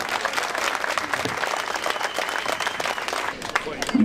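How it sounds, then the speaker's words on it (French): Outdoor crowd at a street protest clapping steadily and densely, with scattered voices and cheers mixed into the continuous applause. "Un grand respect pour elle et des applaudissements."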